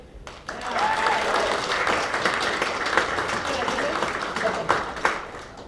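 Sustained audience applause at a science fiction and fantasy convention's opening ceremonies, a dense, even roar of clapping that swells in after a short pause and holds for several seconds, with scattered voices underneath.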